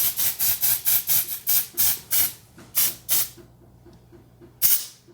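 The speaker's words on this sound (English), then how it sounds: "I'm once again using this crappy smoke spray" Aerosol smoke detector test spray from a faulty can hisses in a rapid series of short bursts, about a dozen close puffs, then a pause and one final spurt, with no talk.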